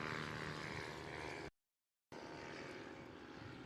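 An Electric Fox light aircraft takes off during short takeoff and landing practice, a steady, fairly distant propeller drone that cuts out for a moment in the middle before continuing.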